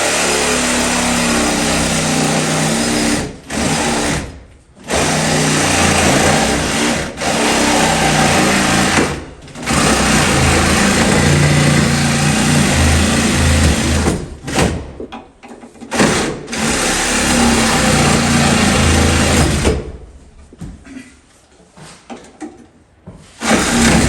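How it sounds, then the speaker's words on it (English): A Sawzall reciprocating saw cuts through ABS pipe inside a wall, a loud, steady buzzing rasp that runs in long bursts broken by short pauses, then turns choppy and stop-start near the end. "we're getting out the old Sawzall because I'll have a little length on that"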